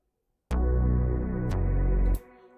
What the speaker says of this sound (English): The pad is called Large Area Pad from Hype.